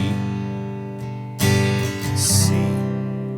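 An acoustic guitar rings out alone as chords are strummed, a sustained chord decaying before a fresh strum enters partway through and rings on.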